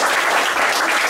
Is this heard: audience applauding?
yes